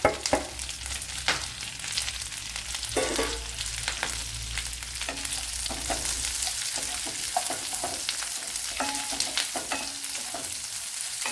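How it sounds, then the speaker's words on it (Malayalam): Sliced carrot and small chopped onion sauté in a hot pan with steady frying sizzle and occasional stirring scrapes throughout, close and continuous with no talk. "ഒരു ചെറിയൊരു സവാളയും കൂടെ അരിഞ്ഞെടുത്തിട്ടുണ്ട് അതും ഇട്ട് കൊടുക്കാം"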